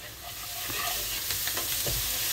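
Ginger, garlic and cumin paste sizzles in a pan over fried onions, a continuous close crackle with scraping stirs of a spatula against the pan.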